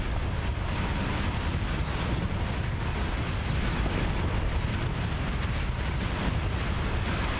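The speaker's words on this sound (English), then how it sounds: "Oh, look, missiles." Missiles detonating in the space combat game Starsector make a dense, continuous roar of overlapping blasts and rumble, loud and unbroken throughout, with no talk.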